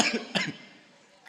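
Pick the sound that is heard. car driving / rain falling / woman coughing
woman coughing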